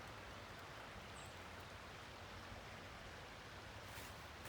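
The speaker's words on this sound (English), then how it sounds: "If you can hear the sound of that water." A stream flows along the edge of a home garden beyond a fence, giving a faint, steady wash of rushing water with no break and no voices.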